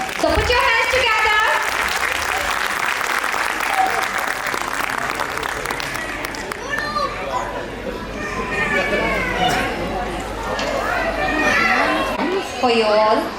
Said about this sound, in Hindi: उत्साह कम ना पड़ जाए, आप तालियां बजाते रहना। So put your hands together.